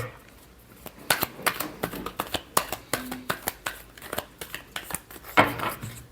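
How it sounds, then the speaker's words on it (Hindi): Tarot cards shuffled by hand in a quiet room, a string of short crisp riffling snaps and slaps arriving in quick irregular bursts, with one louder flurry near the end. "Last shuffle."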